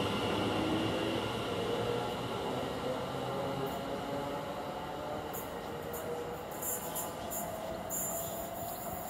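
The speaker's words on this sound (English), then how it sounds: "Now the 1302 Greater Anglia from Ipswich to London Liverpool Street is just now departing." Greater Anglia 1302 service from Ipswich to London Liverpool Street pulling out of Manningtree station, a steady broad rumble of wheels and traction that holds even throughout, with faint higher whine above.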